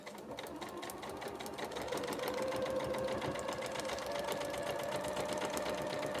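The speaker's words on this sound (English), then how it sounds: "And we're ready to sew on that line." A sewing machine stitching quilt block fabric, a rapid steady mechanical whir and ticking that runs continuously, speeding up slightly after the first couple of seconds, close and unaccompanied by speech.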